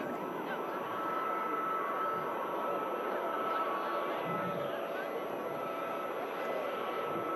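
A KLM airliner at Manchester Airport produces a steady, even roar of jet engine noise that holds at a constant distance without rising or fading.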